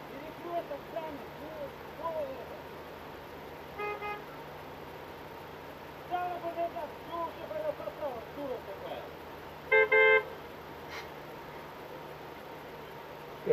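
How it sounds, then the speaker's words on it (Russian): Several car horns toot in short bursts from a distance, scattered over steady traffic noise, with people talking nearby. "Давай я тоже побибикаю. Давайте бибикать."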